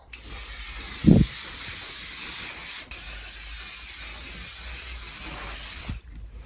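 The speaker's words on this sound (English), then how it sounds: "So I'm gonna spray it" A long, loud continuous hiss of an aerosol disinfectant spray, briefly interrupted once, then running steadily until it cuts off.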